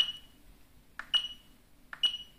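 Short electronic alarm beeps from the settings screen of a Veteran Sherman electric unicycle sound in quick pairs, sharp and fairly close, against a quiet background.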